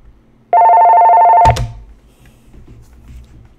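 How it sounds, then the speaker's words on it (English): A telephone rings once with an incoming call to a talk show line, a loud, steady electronic tone lasting about a second, then cut off abruptly by a click as it is picked up, leaving quiet room noise. "Oh, somebody's calling in."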